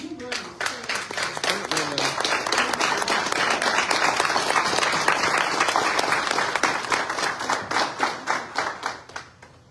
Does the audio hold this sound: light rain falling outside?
no